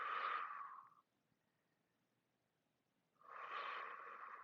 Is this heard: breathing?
yes